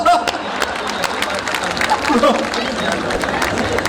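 A crowd at an Indian Kavi Sammelan poetry recital applauds loudly in a dense, continuous stream of claps, with crowd murmur and voices underneath.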